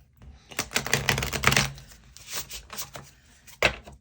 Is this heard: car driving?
no